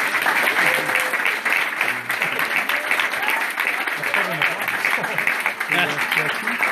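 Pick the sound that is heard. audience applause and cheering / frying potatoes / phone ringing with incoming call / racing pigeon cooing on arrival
audience applause and cheering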